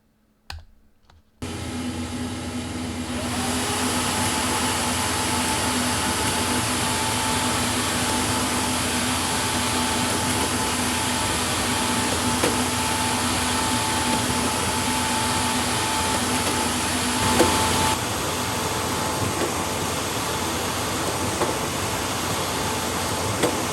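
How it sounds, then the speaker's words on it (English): A printer runs continuously, printing thick 600–700gsm business cards in duplex, fronts then backs. It starts after a brief quiet moment, then holds a steady loud mechanical whir with a constant hum and faint clicking, and no voices. "Okay, so let's hit print."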